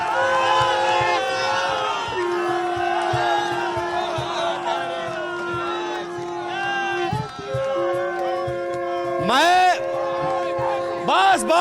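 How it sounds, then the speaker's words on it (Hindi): A large rally crowd roars and whoops loudly and continuously, with shouted voices and a sustained chant rising over the din rather than distinct clapping. "एक बार जोरदार ताली बजाइए"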